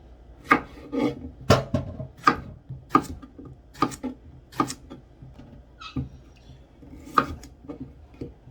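Potatoes for albondigas soup are chopped with a knife on a board in a run of sharp, close, uneven knocks, clustered at first and then more spaced out, with no voices.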